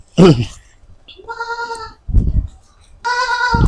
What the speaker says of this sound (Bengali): এটা বিটল ছাগল ভাই